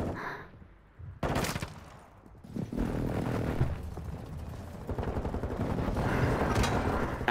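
Gunfire rings out in the video game Call of Duty: Modern Warfare II. Loud bursts and rattling volleys of shots with booming impacts run throughout, with no clear talk.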